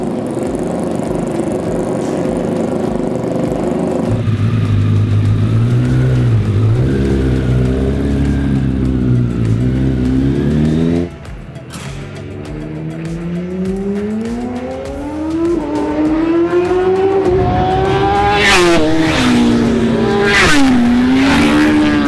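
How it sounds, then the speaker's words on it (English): Racing motorbikes on track in the video game RiMS Racing, engines screaming loud and close as they rev up and down through gears, rising whines and sweeping pitch shifts with no talk. "the sound of these marvelous motorbikes when they're on track"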